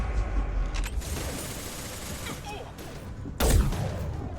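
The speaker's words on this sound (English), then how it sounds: "Taking heavy fire." Heavy gunfire from a firefight in Mass Effect 2, a dense continuous barrage of shots with a louder burst near the end, no voices.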